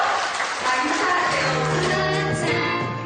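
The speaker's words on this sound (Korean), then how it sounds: "힘찬 박수로 맞이해주시죠." Audience applause in a concert hall greeting the band as they take the stage, a steady wash of clapping filling the room for about three seconds, loud and sustained, with sustained instrumental tones ringing underneath.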